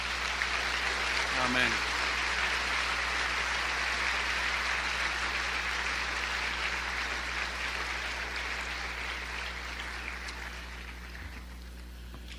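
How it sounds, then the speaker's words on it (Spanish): A church congregation applauds the Lord after a prayer during a sermon, sustained crowd clapping that swells and then slowly fades, with a brief spoken word near the start and faint voices underneath. "Dele un aplauso al Señor."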